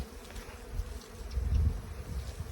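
Dwarf honey bees hum around their nest in a steady, close, low buzz that swells and fades slightly over a few seconds, with no voices.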